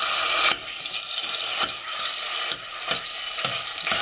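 Onions and tomato paste fry in a pan, giving a steady crackling sizzle broken by a few scraping stirs, with no one talking.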